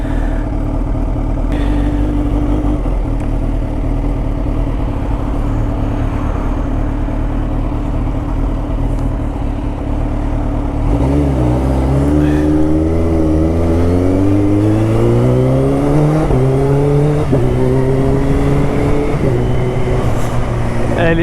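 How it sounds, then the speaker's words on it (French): A Kawasaki Ninja H2 motorcycle fitted with a Trickstar full exhaust rumbles at a steady cruise, then accelerates through several rising engine sweeps with gear changes, loud and close from the rider's position. "elle est équipée d'une ligne complète en Trickstar, c'est pour ça qu'elle fait un bruit de ouf comme ça"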